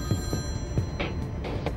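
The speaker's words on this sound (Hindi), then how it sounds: "फोन नहीं उठाएंगे?" A telephone rings in a domestic drama scene, its repeated electronic bell tones sounding close and clear over a low room hum.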